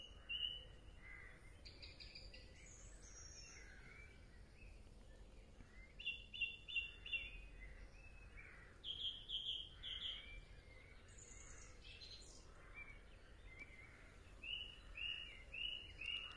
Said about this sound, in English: Listen to the bird song around you.